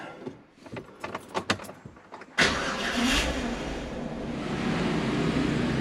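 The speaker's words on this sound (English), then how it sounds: "There we go, fired straight up." Jeep engine starting up: a few seconds of clicks and clunks from inside the vehicle, then the engine catches and settles into a loud, steady, close idle rumble.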